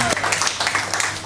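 Live audience clapping at a music show as a performer comes up on stage, a dense, steady patter of many hands filling the short moment at close range.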